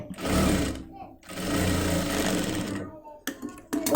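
Domestic sewing machine stitching two layers of nightie cloth for a shoulder seam, running in steady bursts with brief pauses, close and fairly loud under a speaking voice.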